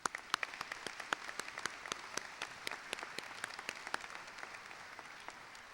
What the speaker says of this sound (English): A round of applause for everybody tonight.